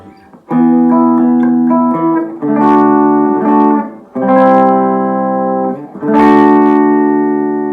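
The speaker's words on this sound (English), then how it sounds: "I'm going to play the super distortion. And first I'm going to play it clean" Clean electric guitar notes and chords from a Telecaster with a DiMarzio Super Distortion T bridge pickup ring out in several sustained phrases, bright and loud with short pauses between strums.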